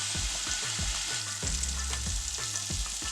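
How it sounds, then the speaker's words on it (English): Salmon fillets fry in a pan with a steady, close sizzle, broken by repeated scraping and stirring knocks at a loose, uneven rhythm, with no voices. "Let that fry about 3 minutes each side"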